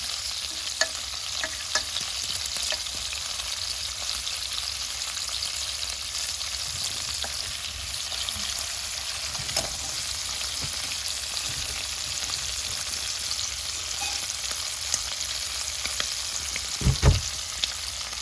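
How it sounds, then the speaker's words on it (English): Shrimp fry and sizzle in a pan for garlic butter shrimp, a steady close crackling hiss with occasional stirring clicks and a louder utensil scrape near the end, no voices. "Shrimp cooks fairly quick, so spread them out. Make sure it doesn't stick."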